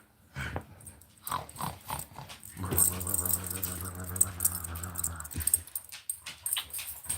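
Dogs whimpering and pawing at a person, asking to go out, with soft whines, scratching and jingling tags close by, and a sustained whine in the middle of the stretch.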